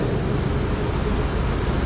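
Lion Air airliner at Pangkal Pinang airport after landing, a steady broadband engine roar filling the whole clip, loud and continuous with no voices.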